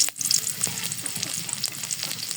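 Chopped garlic hits hot oil in a wok, bursting into a loud, crackling sizzle with busy stirring scrapes and clatters, close up and without speech.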